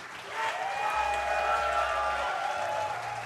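An arena audience at a StarCraft tournament applauds in a steady, moderately distant wash of clapping and cheering that swells and holds for a few seconds, with a faint tonal hum running underneath.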